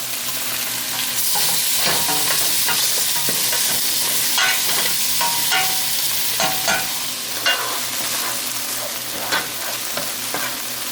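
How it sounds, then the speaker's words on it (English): Jalapeños and onions sizzle in a skillet while sausage browns in a pot, making a loud, continuous close-up frying hiss with occasional stirring clicks and scrapes, and no voices. "I've added some jalapenos and the onions to a skillet. And I'm just getting those started."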